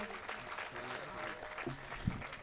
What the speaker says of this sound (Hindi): एक बार जोरदार तालियां हो जानी चाहिए दोस्तों।